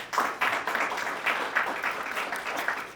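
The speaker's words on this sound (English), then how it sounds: "Let's give them a round of applause" An audience at a HUD press conference in Kansas City breaks into scattered clapping that sustains at moderate volume for several seconds, individual claps audible in a steady patter.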